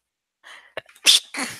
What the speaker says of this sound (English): Okay, I sneezed twice.